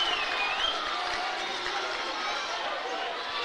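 A high school basketball crowd at a district championship game cheers and roars steadily, a continuous distant wash of voices with a whistle-like tone near the start.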